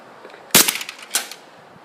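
A Glock 23 pistol fires outdoors, a loud sharp report followed by a second shot roughly half a second later, each with a short ringing tail.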